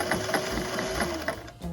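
Sewing machine stitching a zigzag along the hem of a 1960s-style sheath dress, a steady close mechanical whir with rapid needle ticks that slows and stops near the end.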